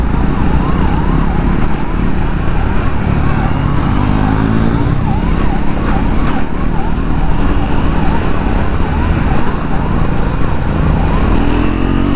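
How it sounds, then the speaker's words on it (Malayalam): A loud ambulance siren wails continuously in rising and falling sweeps over a low rumble of road traffic, heard from a Triumph Scrambler 400 X motorcycle, staying close throughout. "ഒരു ആംബുലൻസ് വരുന്നുണ്ട്"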